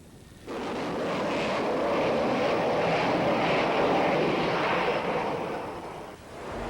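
A US Navy A-6 Intruder jet roars loudly on a carrier catapult with a broad, steady rushing thrust that starts abruptly, holds for several seconds, then fades.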